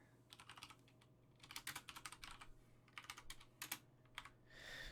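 Bursts of quick clicky keystrokes on a computer keyboard while typing code for a React, Apollo and GraphQL server, in uneven clusters with short pauses, close and fairly soft, no talking.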